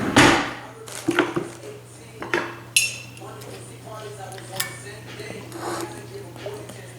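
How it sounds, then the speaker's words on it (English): Carrots and onion being chopped on a board in a home kitchen while cooking spaghetti, a few sharp knife strikes followed by lighter taps and clinks under a steady background hum, with a person talking over it. "I'm gonna cut these carrots up with some onion and saute those."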